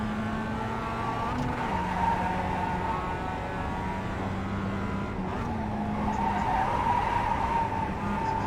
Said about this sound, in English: Drifting again.